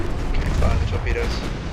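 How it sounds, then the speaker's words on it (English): Torpedoes launching in a naval strategy game set in the 1900s with a Japanese fleet, heard as a dense, booming burst of low rumble with mechanical clatter that keeps up loudly for under two seconds. "fire the torpedoes"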